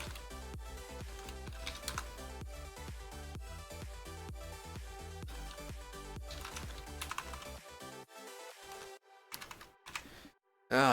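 Typing on a computer keyboard, a brisk stream of clicky keystrokes that continues steadily, then breaks into a few scattered presses near the end.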